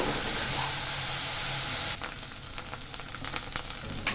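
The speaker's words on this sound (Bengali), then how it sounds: "আদা রসুন বাটা দিয়ে এটাকে আবার একটু নাড়াচাড়া দিয়ে মশলাগুলোর সাথে কষিয়ে নেব" Ginger-garlic paste frying with spices in a pan, a steady loud sizzle for about two seconds, then a quieter crackle broken by scattered scraping clicks of stirring.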